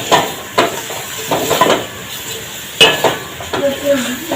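A utensil stirs mixed vegetables with capsicum and spices in a pan, giving intermittent scraping and clinking strokes over a soft sizzle, several distinct bursts spread across the few seconds with no talking.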